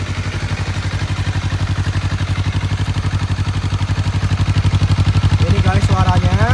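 A Honda CBR 250RR on its original exhaust idles at 1000 rpm, a smooth, even pulsing throb heard up close, with a brief higher whine near the end.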